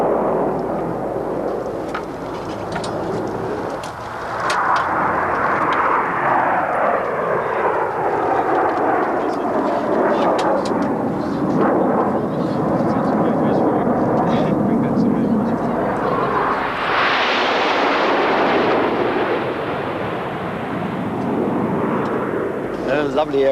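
A roaring English Electric Canberra jet passes overhead, its pitch sweeping down as it goes by and then swelling again, loud and continuous throughout.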